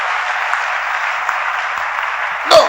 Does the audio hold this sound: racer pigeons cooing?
no